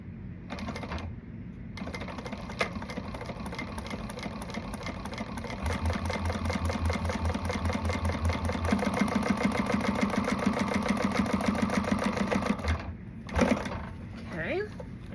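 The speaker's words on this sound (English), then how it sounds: "now we're going to sew this on at the seam allowance that she gives" A home sewing machine stitches a seam on a garment from a Petal Sewing Patterns design, a steady rapid whirring run that continues for most of the stretch with a brief pause near the start, close and fairly loud.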